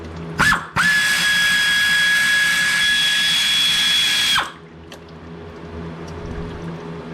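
A power drill fitted with a T25 Torx bit spins out a transmission pan bolt on a 2014 Dodge Journey 3.6L, a short blip followed by a loud steady whine for about four seconds, then stopping.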